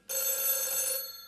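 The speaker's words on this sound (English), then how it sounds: "Hey, my phone. Whose phone?" A telephone rings once in a steady, bright electronic tone that lasts about a second, close and loud, then stops abruptly with no voices over it.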